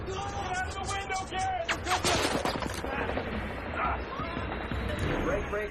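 Gunfire rings out during a firefight between American soldiers and the Taliban in Afghanistan, with sharp, rapid shots cracking repeatedly, some close and some farther off, amid shouting voices and general battle noise.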